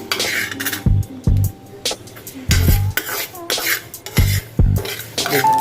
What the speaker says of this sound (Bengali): আর এইভাবেই কন্টিনিউয়াস নাড়তে থাকবো কারণ ছেড়ে দিলে কিন্তু যেখানটা ছেড়ে দেবেন সেই জায়গাটা পুড়ে যাবে